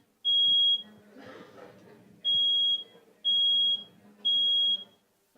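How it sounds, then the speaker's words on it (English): Four loud, piercing fire alarm blasts, each lasting about half a second and evenly spaced, sounding indoors with faint room noise and movement heard in the gaps. "Okay, we'll just let the fire alarm pass for a second."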